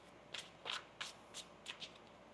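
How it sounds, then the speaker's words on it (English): Tarot cards are shuffled by hand in six or so quick, crisp riffling bursts, close and fairly quiet, with no voices. "One more shuffle here."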